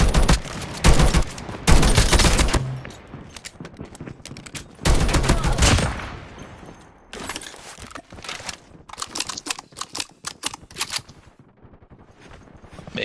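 Gunfire in a shooting video game: bursts of automatic fire and single shots come in loud, dense clusters, then thin out into scattered sharp cracks and mechanical clicks.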